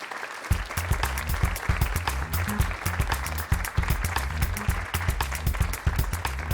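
An audience at a science communication competition bursts into applause after a talk, a sudden onset of dense, steady clapping that stays loud and continuous throughout, with faint crowd noise mixed in.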